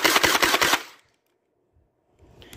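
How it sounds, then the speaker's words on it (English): A QWK Challenger MK III foam blaster fires a rapid full-auto burst of about seven close, sharp mechanical shots in under a second, then falls silent before faint handling noise. "And go ahead and dump the rest with full auto."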